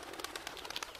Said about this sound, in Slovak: Tu je holub